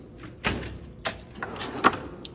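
A wrench drawer on a diesel mechanic's metal tool box slides open, with a few sharp metallic clunks and rolling rattles, close up.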